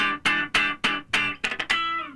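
Funk rhythm guitar chops straight eighth-note chord strums, then closes with a quick sixteenth-note triplet flourish and a final ringing chord, close and crisp with no voices.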